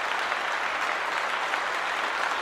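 Steady, dense clapping fills the hall as an audience welcomes an honoree at a ceremony celebrating women's achievements. It stays continuous and even throughout, with no voices.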